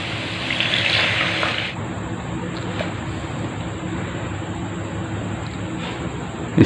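Water splashes and pours steadily into a pot of browned mutton trotters for a second or two, then settles into a low bubbling background.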